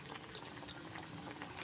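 A pot of curry bubbles quietly at a gentle boil, a soft continuous simmer with small pops close by.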